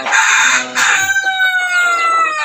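A rooster crows loudly and close, a long rising call with a drawn-out tail, with a brief clucking note near the start.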